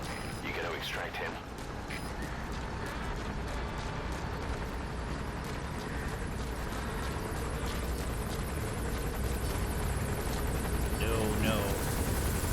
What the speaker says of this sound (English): They stole the helicopter and are doing donuts.